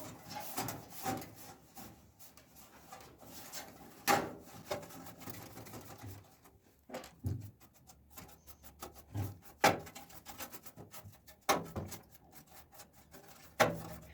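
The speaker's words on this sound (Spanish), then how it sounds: "Procedemos a limpiar con la ayuda de una franela y una brocha." Computer parts are cleaned with a cloth and brush, producing close, continuous rubbing and scraping with sharp knocks and taps scattered throughout, and no voices.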